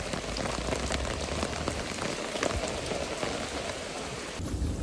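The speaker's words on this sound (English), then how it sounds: "Even though it was already raining, because of the weather, we had to push fishing rope to another day." Steady rain falls in rural Vietnam, a dense, continuous hiss of drops with scattered louder patters on nearby surfaces, constant in level throughout and with no voices.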